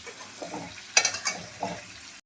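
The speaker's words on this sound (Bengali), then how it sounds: "এই যে আমি পাঁপড়টাকে ভালো করে এখানে ভেজে নেব" Papadum being fried in a pan in a home kitchen, with soft crackling and a few sharp sizzling bursts in the middle of a short, fairly quiet stretch.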